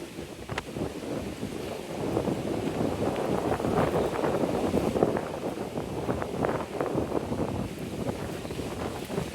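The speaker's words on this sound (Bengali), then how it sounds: "তারপর আপনাদের একটু দেখাই সাগরে কি পরিমাণে বাতাস।" Strong sea wind buffets the microphone with a steady, loud rumbling roar from start to end, with gusts swelling near the middle and faint water and surf sounds mixed beneath.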